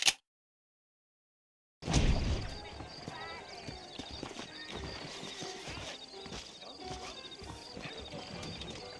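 Horse hooves clip-clopping in Red Dead Redemption, a steady patter of several saddled horses on the move, heard after a short silence and continuing at a moderate level with background game sounds.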